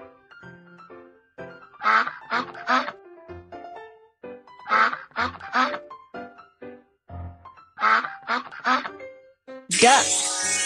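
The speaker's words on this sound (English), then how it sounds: "Duck." Cartoon duck quacks in a children's animal-guessing game, three clusters of rapid quacks set against light background music, ending in a sudden bright flourish.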